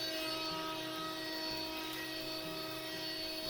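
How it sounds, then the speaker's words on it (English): A router cuts a 1/4 inch tongue along the front edge of a wood shelf board held by feather boards: a continuous high-pitched whine with a steady drone, close and unbroken throughout. "I am making the tongue for the front edges, using feather boards to make sure that it stays nice and tight against the router."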